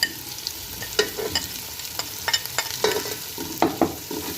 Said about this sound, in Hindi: और इसे हमने भून लेना है अच्छे से ताकि मसाले का जो कच्चापन है वो ख़त्म हो जाए